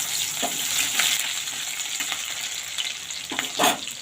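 Chopped green chilli, garlic and onion fry with a pinch of salt in hot oil in a pan, giving a steady close sizzle broken by a few sharper bursts as the mixture is stirred.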